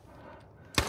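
From a sniper scav in the video game Arena Breakout Infinite, two quick, sharp gunshot cracks land near the end after a low, quiet stretch, with no talking.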